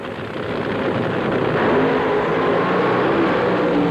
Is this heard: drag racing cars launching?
yes